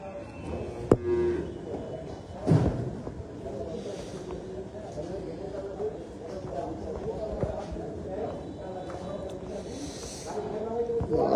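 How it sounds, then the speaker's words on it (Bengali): Qurbani cattle being unloaded at a farm moo repeatedly over a busy outdoor background, the calls fairly close and moderately loud, with people talking throughout. "মাশাআল্লাহ খুব সুন্দর সুন্দর গরু নামানো হয়ে গেল"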